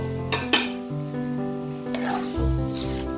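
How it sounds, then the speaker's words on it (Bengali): Fried vermicelli being stirred in a pan for a sweet Eid jorda shemai, with metal utensil clinks and scrapes over a soft sizzle, close and steady throughout. "এবার এতে আমি ভেজে রাখা সিমইগুলো আরেকবার দিয়ে দেবো"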